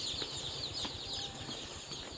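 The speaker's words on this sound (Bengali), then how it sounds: "একবারে দুটা মুরগি একবারে দুটা মুরগি আসছে" Chickens on a poultry farm, clucking and fluttering in a steady, busy flock din with no talk over it.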